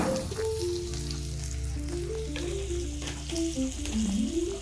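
Spices such as panch phoron, bay leaf, dried and green chillies, cumin and coriander powder fry and get stirred in a pan, a steady close sizzle running beneath a melodic background tune.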